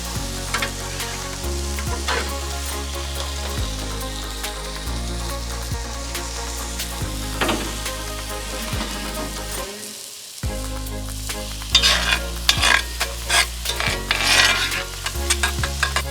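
Creamy Cajun chicken pasta with heavy cream sizzles in a skillet on a Blackstone griddle, a steady close frying hiss with stirring scrapes and clatter, no talk.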